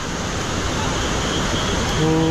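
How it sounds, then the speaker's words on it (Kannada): Steady broadband roar of water falling at Abbi waterfall in Coorg during rain, a continuous close wash of noise that swells slightly near the end. "ಹಿಂಗೆ ಬೀಳ್ತಾ ಇದೆ ನೀರು"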